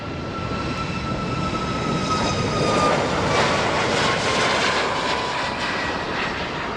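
A Ryanair jet airliner takes off at Faro Airport, its engine roar steady and loud throughout, swelling slightly in the middle before easing, heard alone with no talk.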